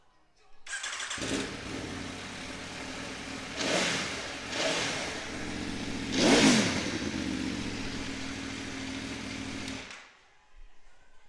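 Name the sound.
V4 motorcycle engine starting and revving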